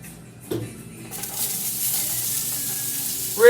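Olive oil in a hot skillet, ready for potatoes, gives a steady broadband sizzle that swells after a brief clatter and keeps up a continuous hiss, with a short sharper scrape or squeak near the end.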